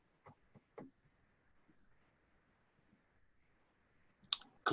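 Several sharp, isolated clicks from advancing presentation slides, spaced irregularly in a quiet room, followed by a louder burst of clicks and handling noise at the end.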